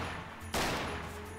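Guns firing in a video game weapon test, a sustained loud burst of automatic fire that cuts in abruptly, runs nearly a second, and starts again briefly at the end.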